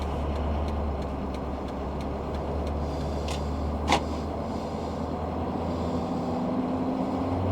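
A 2006 Ford F250 truck rolls around the block, its steady low engine drone and road rumble continuous and close throughout, with one brief sharper sound partway through.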